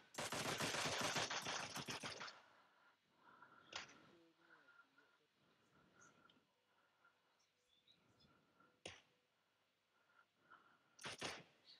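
PUBG Mobile gunfire opens with a rapid, loud automatic burst lasting about two seconds, followed by scattered single distant shots over a quiet background, with a final short burst at the end.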